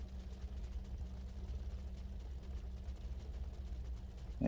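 Low-revving car engine idling in the racing game The Crew 2, a steady deep rumble with a faint hum, constant and unchanging throughout, ending in a brief louder knock.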